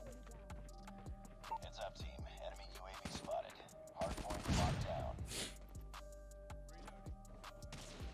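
Quick bursts and scattered single shots from a KN-44 rifle and enemy fire in the mobile shooter Call of Duty Mobile crackle faintly amid game sounds, peaking in a denser volley midway, with a voice occasionally audible.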